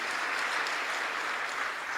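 An audience applauds at a ceremony where dividends from public corporations are handed to the President, with dense, steady clapping at an even level throughout.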